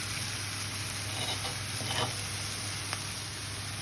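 Chicken fillets sizzle steadily in a hot pan with vegetables, a soft continuous frying hiss with a few faint clinks, fairly quiet and with no talking.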